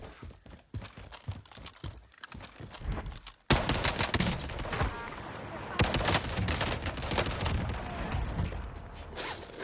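Gunfire in Call of Duty Warzone, with rapid bursts and single shots crackling at first, then a denser, louder barrage of overlapping fire that continues to the end.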